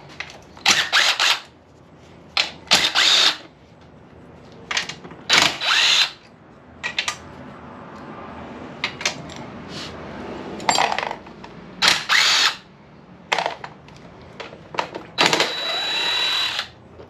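Power tool bursts loosening the battery box bolts on a 1979 Kawasaki KZ650 during teardown, about ten short whirring runs with brief pauses between them, close and fairly loud, with faint rattling of parts in the gaps.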